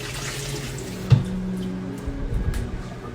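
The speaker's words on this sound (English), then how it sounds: "I'm going to wash my hands." A kitchen tap runs at a sink while hands are washed during baking, making a close, steady wash of water with a clunk partway through and splashing that shifts near the end.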